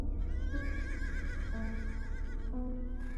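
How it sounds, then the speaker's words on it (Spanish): A horse neighs furiously in a long, shaky whinny that rises and falls through several quavering cries, heard close and clear with faint hoof movement beneath. "en una que otra ocasión detectó un relinchido furioso"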